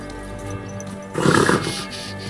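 A short, rough burst of a horse vocalization in the video game Kingdom Come: Deliverance II, like a snort or whinny, rising briefly over a steady low background hum.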